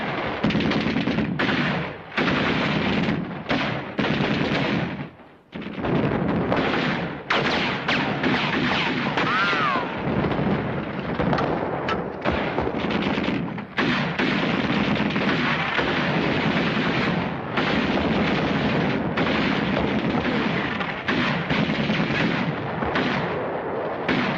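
Battle scene from a 1953 World War II film, with bazooka blasts and rapid machine-gun and rifle fire. Dense, loud bursts of shots and explosions repeat almost nonstop, with brief pauses.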